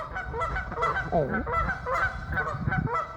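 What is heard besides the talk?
geese honking on a pond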